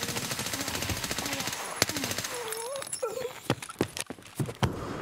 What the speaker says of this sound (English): He's shooting someone.